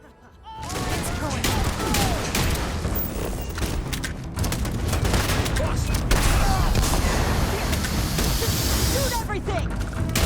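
Gunfire in Starfield during The Empty Nest mission, dense bursts of shots and hissing energy fire crackling steadily over ten seconds, loud and close, with shouting voices mixed in.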